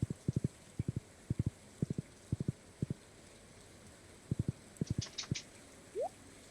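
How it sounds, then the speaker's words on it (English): Horse hooves clip-clop in the Stardew Valley video game, quick clusters of two to four light taps repeating at a steady pace, close and clear with no talking. "Let's get on Jack the horse."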